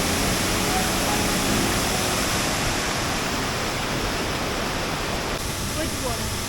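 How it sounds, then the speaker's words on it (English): A powerful waterfall in North Bali roars in a dense, unbroken wash of rushing water that fills the whole scene at steady loudness. "the waterfall is much more powerful"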